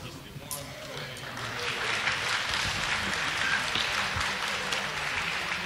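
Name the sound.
applause from the cutting finals in the back room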